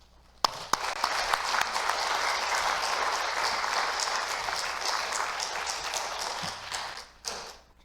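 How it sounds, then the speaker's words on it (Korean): A Korean church congregation at an anniversary revival service claps warmly to welcome the pastor: a dense, sustained wash of applause that starts with a few sharp claps, holds steady for several seconds and then fades, with a brief thump near the end. "여러분들 박수로 뜨겁게 우리 목사님 맞이해 주시면"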